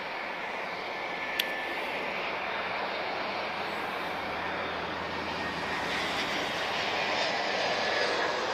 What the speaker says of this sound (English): So EasyJet A319